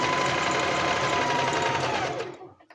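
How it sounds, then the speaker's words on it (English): A sewing machine stitching coveralls runs in a fast, steady whirring burst close by, then slows and stops near the end. "Makes sewing a little easier."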